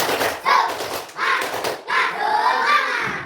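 Schoolchildren in an Indonesian classroom perform the tepuk semangat spirit clap, several rhythmic bursts of group clapping and chanting voices in quick patterned sequence, fairly close and moderately loud.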